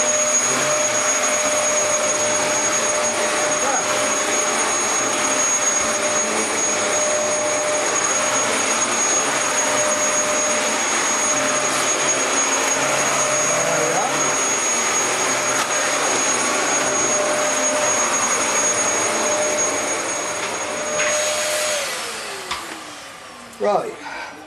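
A Hoover vacuum cleaner whines steadily and loud with a high constant tone, running for about twenty seconds before its pitch sags as it powers down, followed by a few clunks.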